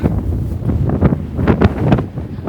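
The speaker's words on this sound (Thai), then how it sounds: "ลมแรงมาก" Strong gusting wind buffets the microphone on a clifftop in Busan, South Korea, loud uneven rumbling bursts rising and falling in waves with no voices.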